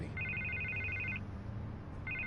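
In Batman: The Telltale Series, season 1 episode 3, a telephone rings in trilling electronic bursts, a long ring followed by the start of another, over a steady low hum of background sound, with no speech.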